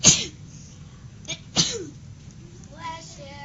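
Two close, sharp sneezes burst out about a second and a half apart in a quiet room, followed by soft voices and someone speaking.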